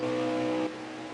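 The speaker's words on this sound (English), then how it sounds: "you can just hear the revs" A race car engine in a sim racing game revs with a steady harmonic drone for about two-thirds of a second, then drops abruptly to a lower, quieter hum.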